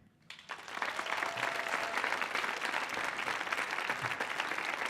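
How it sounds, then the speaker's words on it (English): Applause from the audience at a Syrian benefit concert on the Millennium Stage rises after a brief quiet start into a full, sustained wash of clapping that holds steady to the end. "Keep that round of applause going"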